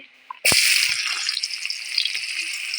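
Chopped onion drops into hot oil with a sudden loud hiss that settles into a steady, close sizzle with light crackles, no talking.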